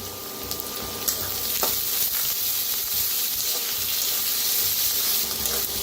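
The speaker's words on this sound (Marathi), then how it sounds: "कांद्याची पात ती बी भाजून घेऊया" Tender coriander stalks and spring onion greens frying in a pan, a steady close sizzle that holds evenly throughout, with a couple of faint clinks of stirring.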